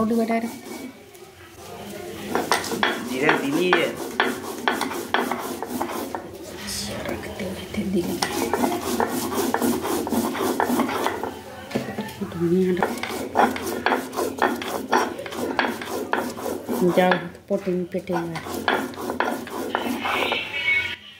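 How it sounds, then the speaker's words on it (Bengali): Mustard seeds, cumin, coriander and onion are ground by hand into a spice paste. Close, repeated rasping strokes run in a steady rhythm while a voice talks over much of it. "ওই জন্য মা বেটে নিচ্ছে"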